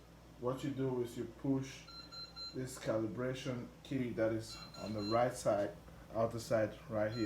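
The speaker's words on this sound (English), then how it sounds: "Sorry about the beeping, my battery is about to die" A drone remote control gives thin, high low-battery warning beeps in short repeated bursts, faint beneath a man explaining compass calibration nearby.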